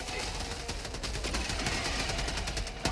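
Rapid gunfire in the Helldivers 2 video game, a steady dense clatter of shots running through the whole stretch at constant loudness, with no voices over it.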